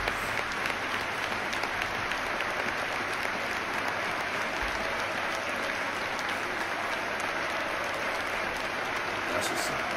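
Football stadium crowd of Liverpool and Manchester United supporters applauding steadily for Cristiano Ronaldo, a dense, continuous wash of clapping from a full ground lasting the whole stretch.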